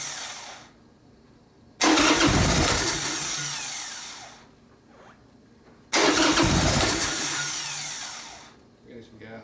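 A Harley-Davidson Sportster being worked on cranks and fires twice, each time a loud rough burst of engine noise that runs a few seconds and then dies back to a low murmur.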